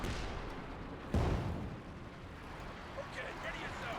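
German artillery bombardment in the Company of Heroes 2 video game: one heavy shell impact thumps loudly amid continuous battlefield noise, fading into rumble with faint crackling afterward.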